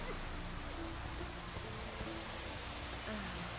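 Steady soft rain hiss in The Witcher 3 fills the whole stretch, an even wash of pattering with a few faint tones drifting underneath.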